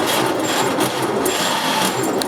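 A 1923 Pierce Arrow Model 33 engine is turned over by its starter in a steady, loud, continuous mechanical whir with a slight rhythmic chatter, heard alone without ignition catching.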